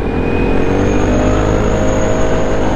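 Motorcycles, including Vespa matic and two-stroke Vespa scooters, revving loudly close by in street traffic at a Sunday morning ride gathering, a continuous droning engine roar with a steady whine over it.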